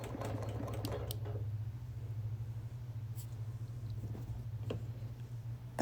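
A sewing machine machine-quilts a wool appliquéd quilt, running as a steady close whir with a low motor hum and fast needle patter throughout.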